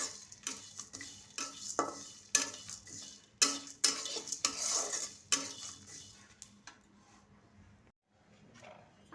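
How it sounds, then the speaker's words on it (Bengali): Dry spices frying in a pan give soft sizzling, while a utensil scrapes and taps against the metal in irregular bursts that thin out toward the end; quiet overall with no talk. "এই মশলাগুলোকে এখন সুন্দর করে ভেজে নেব।"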